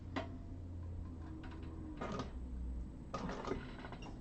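A sewing machine runs in short bursts while top stitching an eighth-inch seam around a thin handbag strap for a vintage handbag, with a steady low motor hum and a few clicks between passes.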